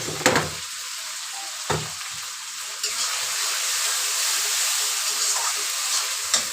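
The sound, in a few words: frying spice paste (chili, ginger, cumin) in a pan for chicken kasha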